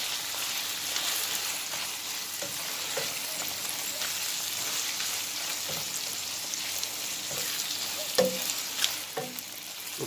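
Fried food is stirred in a hot pan while dumplings, cabbage and salt fish are prepared, with a steady soft sizzle running throughout and a few scraping, clacking stirs near the end.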